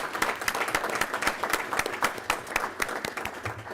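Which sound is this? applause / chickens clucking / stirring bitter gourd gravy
applause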